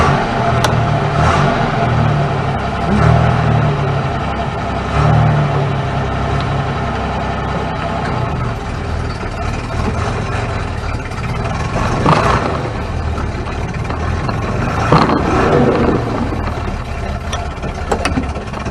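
An MG MGC GT's engine runs on its first drive in about fifteen years, a continuous mid-pitched idle with occasional revving swells and a few sharp knocks, close and loud with no talking.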